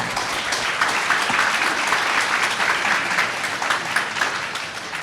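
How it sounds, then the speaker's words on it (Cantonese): An audience claps for children at a kindergarten graduation ceremony, steady dense applause filling the hall, loud and continuous throughout with no voices on top. "我哋真係要俾多次掌聲佢哋啊"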